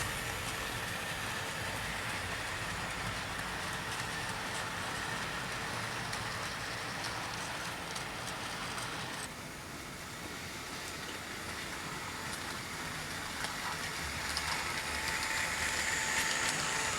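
A preserved war-era steam locomotive runs at a heritage railway, making a faint, steady hissing rumble heard from a distance. The sound stays even throughout, with a slight dip partway through.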